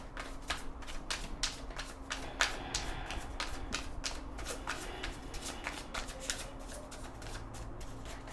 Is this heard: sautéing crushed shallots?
no